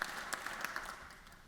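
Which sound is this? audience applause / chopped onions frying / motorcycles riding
audience applause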